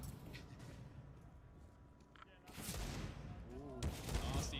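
Gunshots in a Counter-Strike match on FACEIT, including revolver fire, come as bursts of sharp reports that grow denser in the second half, mixed with game ambience.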